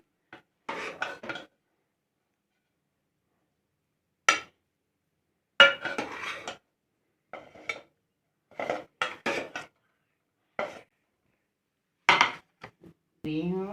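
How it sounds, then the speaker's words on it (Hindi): Utensils clink and scrape against a plate in scattered bursts while jaggery rice is served out, each short metallic knock separated by quiet gaps, close and fairly crisp. "अब इसको मैं प्लेट में निकाल रही हूँ।"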